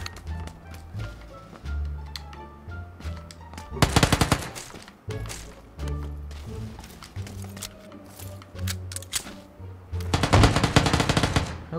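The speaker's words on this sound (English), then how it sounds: "he's definitely shooting at somewhere around" Distant automatic gunfire in PUBG comes in two long, loud rapid bursts, with scattered single shots and footsteps in between.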